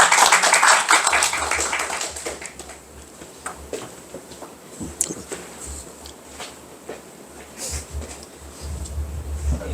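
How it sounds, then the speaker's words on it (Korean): Applause from an audience at a university end-of-semester gathering welcoming a graduate to speak, loudest at the start then thinning into scattered claps and taps. "박수로 환영해 주십시오"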